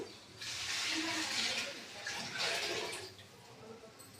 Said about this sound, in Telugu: ఇప్పుడు ఒక గిన్నె వాటర్ వేస్తున్నాను